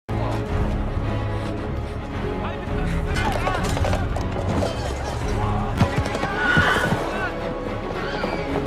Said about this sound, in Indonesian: Bahkan kuda kesayangan Kriemhild tiba-tiba ngamuk dan lari begitu aja.